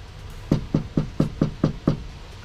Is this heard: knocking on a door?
yes